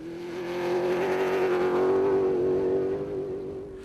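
Castrol Toyota race cars at the Gold 400 running hard, a steady droning engine note holding near and loud without a break, no voices over it.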